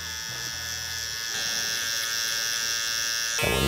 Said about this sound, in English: This is my sharper trimmer.